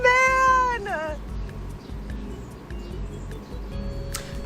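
A cat meows near a laptop with one clear, loud, drawn-out meow at the start, followed by a brief falling trill, then a quieter indoor background with faint murmuring talk.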